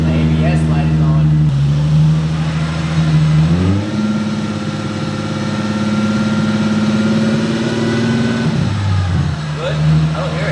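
A GR86/BRZ car engine runs without exhaust, a loud raw idle that rises in pitch as the revs climb, holds, then drops back to idle, with people talking nearby.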